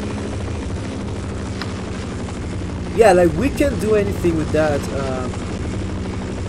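A steady low rotor drone from a helicopter in Half-Life runs throughout the clip, continuous and moderately loud, while someone talks over it in the middle section.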